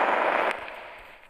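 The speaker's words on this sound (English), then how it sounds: "I'm going to set more bombs in this." A bomb goes off in a Roblox game, a loud broadband blast that cuts off abruptly and leaves a rumbling tail fading over about a second.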